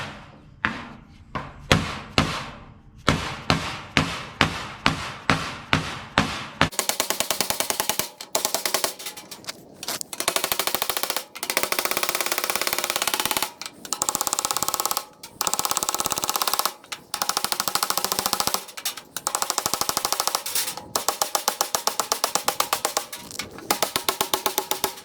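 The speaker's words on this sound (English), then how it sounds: "And then I have a board and a ball peen to try to take some of the smaller dents out." A ball peen hammer knocks dents out of a JLG 860SJ boom lift panel backed by a block, first as a dozen separate sharp metallic strikes, then as rapid rattling bursts of blows, loud and close with no talk.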